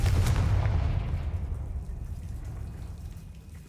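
A Confringo blasting spell detonates in the video game Hogwarts Legacy, a heavy booming explosion at the start that decays into a long, fading rumble.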